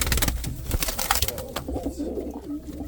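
Indian fantail pigeons, a breeding pair nesting with eggs, coo in low repeated phrases, close and fairly loud over a busy background of rustling and other bird sounds.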